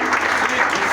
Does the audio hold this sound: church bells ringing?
no